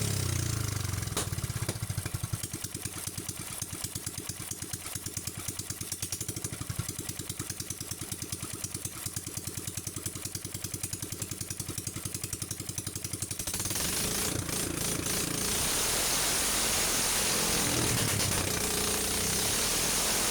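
A small boat engine runs with a rapid, rattling throb that rises and falls as it is revved several times, then settles into a rougher idle.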